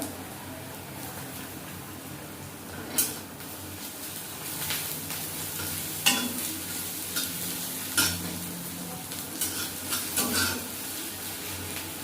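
Onion and crushed garlic frying in a pan, a soft constant sizzle broken by several sharp scrapes and clinks of a spatula stirring against the metal, no talk.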